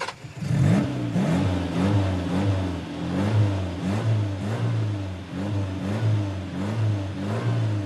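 A car engine revs repeatedly, rising and falling in pitch in a steady cycle of throttle blips, loud and close with no talking.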